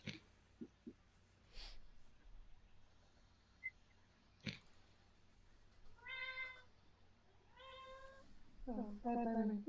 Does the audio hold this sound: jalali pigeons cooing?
no